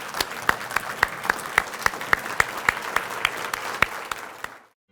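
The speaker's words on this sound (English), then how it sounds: "Now would everybody stand and give everybody a round of applause, because all of you are important." A standing audience at a county development authority annual meeting gives a round of applause: moderate room-filling clapping with sharp louder individual claps punctuating it, ending abruptly.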